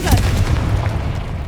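Confringo fire spell blast in the Hogwarts Legacy video game: a low, rumbling burst with crackling that carries on through the whole short moment. A player's voice is faintly audible over it.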